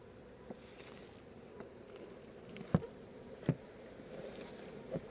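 A honey bee swarm at a beeyard gives a faint, steady buzzing hum, with a few soft taps and knocks.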